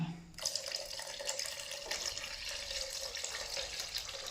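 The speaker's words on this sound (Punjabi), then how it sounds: "ਡੇਢ ਗਲਾਸੀ ਆਪਾਂ ਪਾਣੀ ਦੀ ਪਾਵਾਂਗੇ" Water runs steadily from a tap into a pot of matar paneer gravy, a continuous splashing stream starting after a brief pause and filling the rest of the clip.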